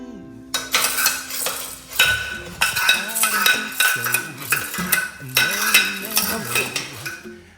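A spoon clanks and scrapes against a metal pot while homemade popcorn ingredients are mixed, a close series of rhythmic metallic knocks and clinks with no voices.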